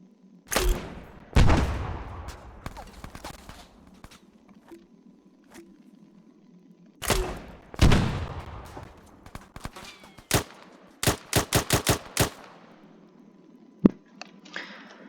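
A L123A3 grenade launcher fires in Arma 3, with booming shots and explosions spaced apart, then a rapid cluster of sharp bangs, loud and close, plus reloading clicks between.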